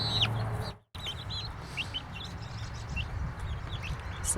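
Several same-age hens in their run cluck and squawk close by, short repeated calls over steady background noise, with a brief dropout near the start.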